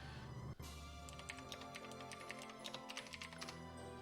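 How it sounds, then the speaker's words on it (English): Computer keyboard keys clack in quick, uneven bursts over steady background game audio, fairly faint and close, with no talking. "Sorry if you can hear my keyboard"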